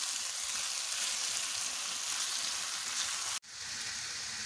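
Minced meat (qeema) with tomato paste frying in a pan, a steady dense sizzle that is loud and continuous, with a brief sharp break near the end before the sizzle resumes.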